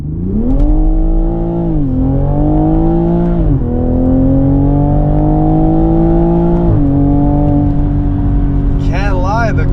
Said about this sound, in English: Can't lie, the car sounds pretty good, man. The B58 sounds good.